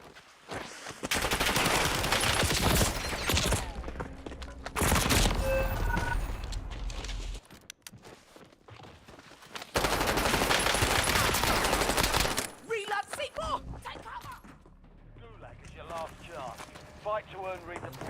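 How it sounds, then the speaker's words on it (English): Heavy video-game gunfire rips through in loud, dense automatic bursts, broken by short lulls and a quieter stretch near the end, with voices speaking over parts of the action. "Taking fire!"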